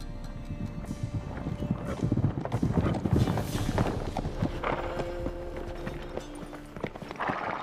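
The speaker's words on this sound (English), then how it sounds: "Horses?" Horse hooves clip-clop steadily in The Witcher 3, a repeated walking rhythm set against game ambience and music, with the occasional whinny.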